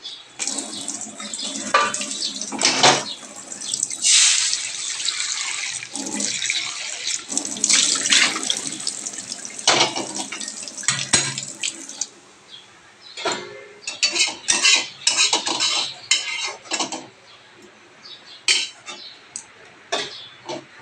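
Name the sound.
washing a wok with water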